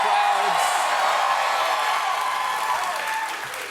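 A television studio audience bursts into loud, sustained applause and cheering, a dense wash of clapping with whoops that fades slightly toward the end.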